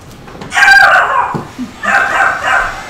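A dog barks indoors, close and loud, giving two bursts of sharp barking separated by a brief pause and a small yelp.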